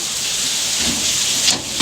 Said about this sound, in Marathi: आतांचा पाऊस बघा रे